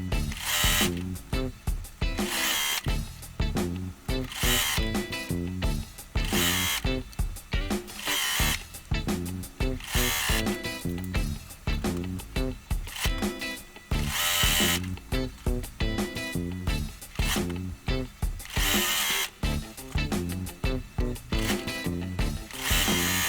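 A sewing machine chain piecing quilt patches, a steady fast mechanical stitching drone broken by short pauses and bursts as fabric feeds through, close and loud.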